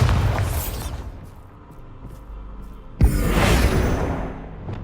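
A Bombarda blasting spell in the video game Hogwarts Legacy detonates with a loud, sudden boom and a bright burst, followed by a sustained rumbling roar of debris; a softer whooshing swell precedes it.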